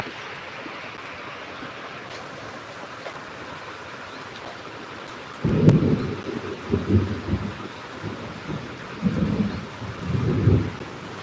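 Steady rain pours over open farmland throughout, and about halfway through deep rolls of thunder rumble in, swelling and fading in several loud bursts beneath the continuous downpour.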